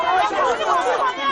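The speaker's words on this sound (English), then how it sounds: "You can hear the jeers of disbelief from the crowd." A crowd of villagers jeers in disbelief, a dense, agitated babble of many voices shouting over one another at close range, steady and loud throughout the short burst.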